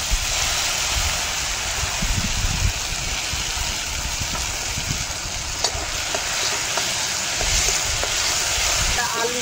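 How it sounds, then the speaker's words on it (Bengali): Mustard and green chili paste hitting hot oil with whole dried chilies and mustard seeds, a loud continuous close sizzle with occasional stirring clinks, no speech. "সরষে আর কাঁচা লঙ্কা বাটা দিয়ে দেবো।"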